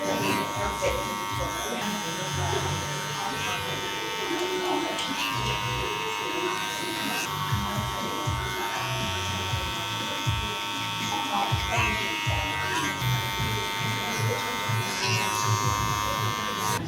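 Electric hair clippers buzz steadily while cutting short hair for a wedding haircut, with a close, humming whine that shifts slightly as they move, and a voice talks over it.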